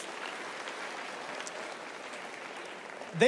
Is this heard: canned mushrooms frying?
no